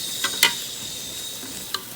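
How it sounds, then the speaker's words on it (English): A steady sizzling hiss of bacon and Brussels sprouts cooking in an air fryer, with a few sharper pops and scrapes breaking through. "I'm just mesmerized by the sizzling."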